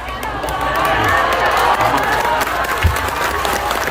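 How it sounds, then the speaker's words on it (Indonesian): Crowd applause at an outdoor religious gathering in Changhua, Taiwan, a steady wash of many hands clapping with cheering and shouting mixed in, fairly loud throughout. "Tepuk tangan untuk BMI."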